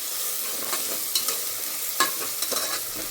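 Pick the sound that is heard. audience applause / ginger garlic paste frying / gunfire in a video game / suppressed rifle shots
ginger garlic paste frying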